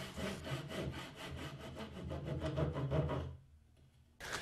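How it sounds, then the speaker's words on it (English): A handsaw cuts the haunches of wooden tenons for a classic workbench, making steady rhythmic back-and-forth strokes at close range, then pausing briefly before another stroke begins. "this is a simple job with a handsaw"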